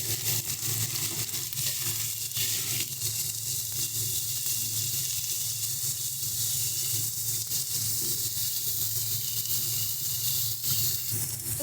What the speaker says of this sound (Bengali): সমস্ত কিছু দিয়ে ভালো করে মশলাটা আলুর সঙ্গে মিশিয়ে নেব